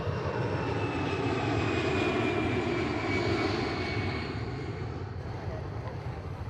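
Jet engines of a Malaysia Airlines airliner, flight 17, at the gate just before pushback: a steady, loud, close roar with a thin high whine riding over it, easing slightly toward the end.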